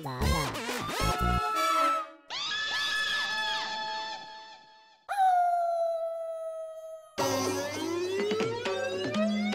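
A dog howling in a shop, sounding as a series of long wavering wails with sharp breaks between phrases, loud and close with no talk.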